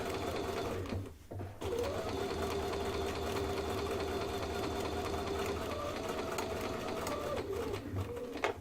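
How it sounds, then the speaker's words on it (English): Sewing machine stitching a holiday table runner along the right side of a chalk mark, a steady continuous motor hum running alone for about six seconds after a brief pause near the start. "I'm going to stitch on the right side of that chalk mark"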